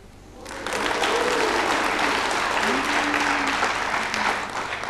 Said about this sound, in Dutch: het applaus zegt weer veel.